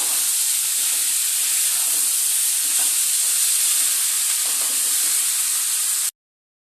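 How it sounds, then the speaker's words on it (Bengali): A banana flower, potato and rui fish-roe fritter mixture being sautéed in a pan, a loud, dense, continuous hiss and sizzle held steady throughout, close to the pan and with no talking, cutting off abruptly at the end. "মোচা, আলু, বড়া সব মিশ্রণকে আবারও মেশানোর পালা। খুব সুন্দরভাবে আবারও একবার কষিয়ে নেব।"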